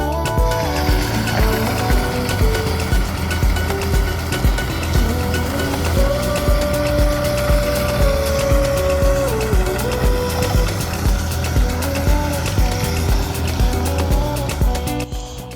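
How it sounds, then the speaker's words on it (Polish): A Tebbe HS 180 manure spreader running steadily, its spreading discs spinning at high speed, giving a continuous loud mechanical drone with a rough, rhythmic texture throughout. "Talerze z ogromną prędkością, z prędkością około 500 e, obrotów na sekundę rozrzucają materiał na zewnątrz."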